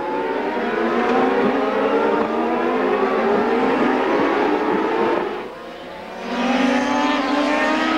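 CART Indycar race cars from 2001 at Laguna Seca scream past in a loud, continuous high-revving engine roar that briefly drops off, then surges back as another car passes.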